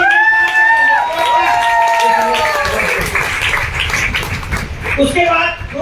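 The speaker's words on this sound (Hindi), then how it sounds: "जोरदार तालियां होनी चाहिए।" Audience at a business plan presentation in Nallasopara bursts into loud clapping and cheering, a dense sustained wash of applause with a voice speaking over it at the start.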